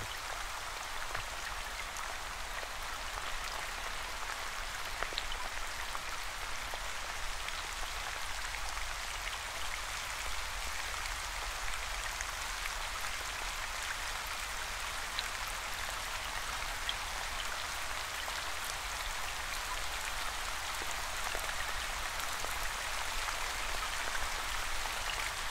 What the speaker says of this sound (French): Tentez du mieux possible d'imaginer l'odeur de cette pluie qui tombe.